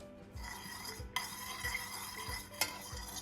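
Cherry syrup mixture stirred in a pot for a Black Forest cake, with soft rhythmic scraping strokes about every half second and a couple of brighter clinks of the utensil against the rim, close and quiet, no voices.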